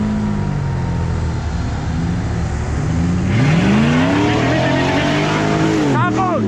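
An off-road car at a trophy challenge revs its engine hard while reversing, the pitch sweeping up and down in loud repeated surges, with people talking over it.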